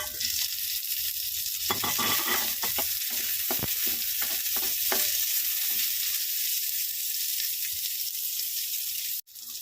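Garlic and onion sautéing in a pan, a loud dense sizzle throughout with a cluster of scraping stirs and clinks in the middle, ending abruptly, no talking.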